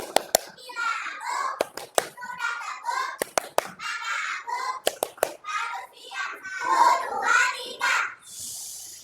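Children in a classroom chant the 'tepuk diam' routine in unison, their voices punctuated by sharp, rhythmic bursts of group hand claps in a patterned sequence.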